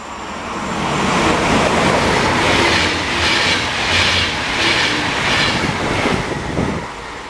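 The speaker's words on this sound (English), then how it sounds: "Here we got a train coming right now." A train passes through the Swiss Alps near the Zurich line with a steady rumbling roar and rhythmic clickety-clack of wheels on rails, fairly loud and close, with no talking over it.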